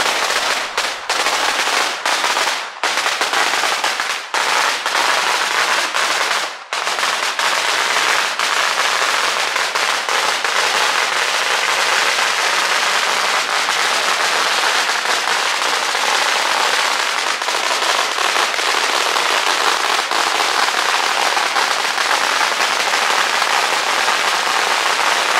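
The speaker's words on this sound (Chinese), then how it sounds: "也是放鞭炮的亲友。" Relatives set off strings of firecrackers at a village feast in a hillside area on a city's outskirts, a loud, dense barrage of rapid cracks and pops going without pause for the whole stretch.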